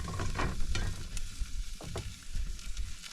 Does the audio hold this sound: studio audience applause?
no